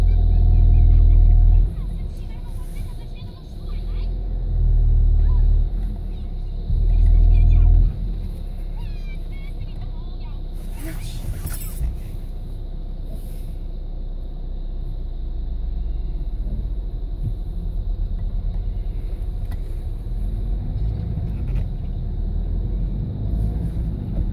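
A car engine drones low and steady while driving near Nærøyfjorden. The rumble swells in a few heavier surges early on, then settles into a constant hum with muffled voices faint in the background.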